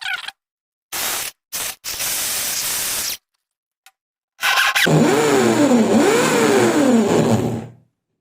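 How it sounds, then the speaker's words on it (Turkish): A large electric drill bores into a Hot Wheels toy car, heard as loud close bursts of whining motor that start and stop, ending in a longer run that rises and falls in pitch. "Şöyle bir tane büyük bir matkabım var."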